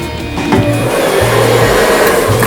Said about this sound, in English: We got our good old freestyle blow dryer.